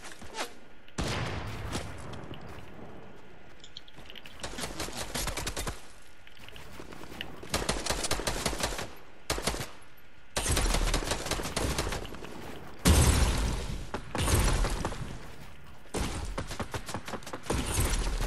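Bursts of video game gunfire in a battle royale match, loud clustered volleys of rapid shots separated by brief quiet gaps, coming in irregular waves.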